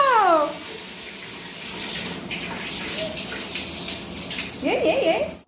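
Water runs steadily from a tap while a baby is bathed, a continuous splashing gush. A high, sing-song voice is heard briefly at the start and again near the end.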